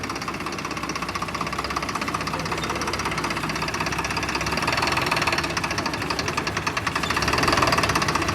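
A Swaraj tractor's diesel engine runs steadily with a rough, knocking chug, close by and continuous, swelling slightly in loudness near the end.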